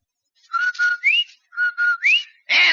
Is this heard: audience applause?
no